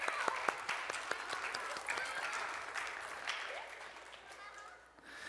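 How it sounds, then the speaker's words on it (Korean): Congregation applauding during a church graduation service, a broad wash of clapping that holds steady then fades near the end, with voices murmuring underneath. "큰 박수로 격려하겠습니다"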